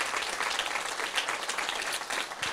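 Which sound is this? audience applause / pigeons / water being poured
audience applause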